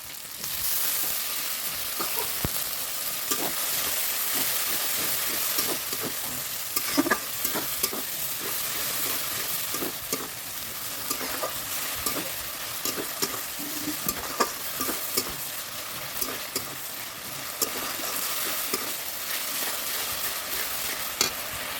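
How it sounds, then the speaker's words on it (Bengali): Masala for chicken kosha is stirred and sautéed in oil in a pan, a steady sizzle broken by frequent scraping clicks of the spoon, close and continuous without talk. "এরপর সামান্য পরিমাণে একটু জল হলে মশলাটা কষতে থাকবে"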